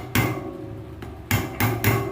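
A hammer strikes a chisel to tap a part of a Hope Pro 4 rear mountain bike hub into place, giving four sharp, close metallic knocks at uneven intervals with no talking.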